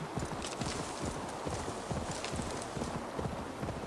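Steady clip-clop of horse hooves trotting at an even rhythm in the video game Assassin's Creed Valhalla, fairly close, with a faint background hum and no talking.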